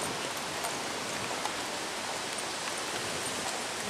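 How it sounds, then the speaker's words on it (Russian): Steady rain falls outdoors where a crowd is seated, a dense even hiss of drops with no pauses, fairly soft and uniform throughout. "интересно под дождем посидеть"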